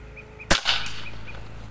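A single sharp high-power air rifle shot through an FX Liner barrel, one loud close crack followed by a short fading ring, with faint bird chirps in the background.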